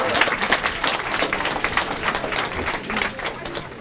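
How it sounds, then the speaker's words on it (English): A crowd at a student story slam claps steadily, a dense and fairly close wash of hand claps that runs without pause from start to finish. "So give her a round of applause."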